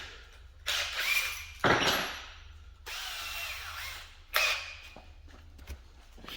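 Drill bit boring into the windows of a Mini GT Datsun Wagon die-cast model, three bursts of whining, grinding drilling separated by short pauses, close and moderately loud.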